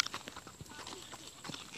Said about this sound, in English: Just riding a horse.